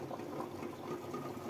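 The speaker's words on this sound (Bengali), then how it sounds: "শাকটা সেদ্ধ বসাই দিলেন" Leafy greens boil in a pot with a soft, continuous bubbling and gurgling, quiet and steady, and no talking.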